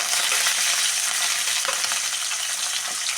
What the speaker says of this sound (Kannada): ಸ್ವಲ್ಪ ಎಣ್ಣೆಲಿ ಚೆನ್ನಾಗಿ ಫ್ರೈ ಮಾಡ್ಕೊಳ್ಳೋಣ ನೋಡಿ